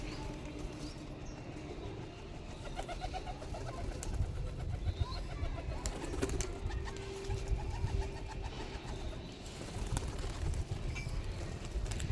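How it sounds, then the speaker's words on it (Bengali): Pigeons coo softly and steadily at a pigeon loft in Serampur, a low murmuring that continues under a constant background hum, with no talk. "দুটো, চারটে, ছটা পায়রা আছে, ছটাই বাচ্চা"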